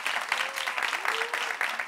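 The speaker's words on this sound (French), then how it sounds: "Applaudissements pour Kadi." An audience applauds on a French-language television show, a steady dense wash of clapping that fills the whole moment at a moderate level, with a faint voice or tone gliding underneath.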